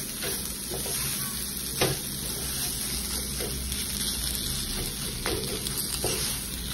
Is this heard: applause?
no